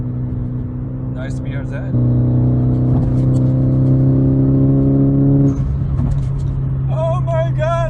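A Nissan S15 drives on rough Toronto roads with its tires rubbing. A steady, droning engine hum rises partway through as someone talks over it inside the car.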